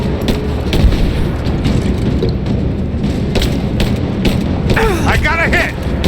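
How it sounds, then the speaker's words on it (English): Suppressing fire in Rise of the Tomb Raider: a continuous din of booming gunfire and thuds, with shouted voices and some whistling or ricochet-like sounds late in the passage. "Suppressing fire!"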